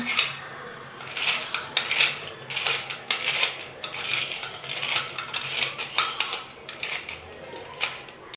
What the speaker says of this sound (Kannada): ಇವಾಗ ಇದರಲ್ಲಿ 5 ಹಾಕ್ಕೊಂಡು ಬಾದಾಮಿ ಎಲ್ಲ ಚಾಪ್ ಮಾಡ್ಕೊಳ್ಳೋಣ